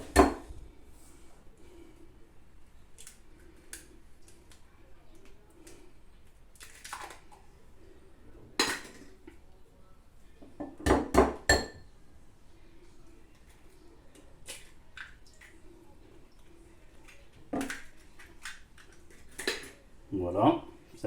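Eggs cracked against the rim of a small bowl while making homemade waffle batter give a few sharp, close taps in brief clusters, spread across a quiet kitchen with a faint voice in the background.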